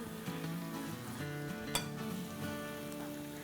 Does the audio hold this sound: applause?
no